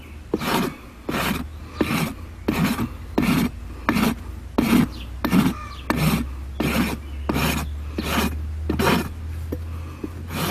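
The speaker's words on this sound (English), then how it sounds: "Now look, see how my rasp was angled? Just kind of straight from my shoulder, straight across." A farrier's rasp filing across the toe of a horse hoof in long, regular strokes, about fourteen rough scraping passes in steady rhythm, close and fairly loud over a low background hum, with no talking.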